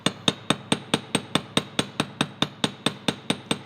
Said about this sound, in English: One thing you can do is take a texturing hammer